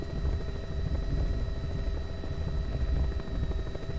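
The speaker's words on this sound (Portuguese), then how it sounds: "Eu acho que a gente tá chegando no helicóptero" A helicopter in the video game Zoonomaly gives a steady, loud rotor drone that holds evenly from start to end, with no talking over it.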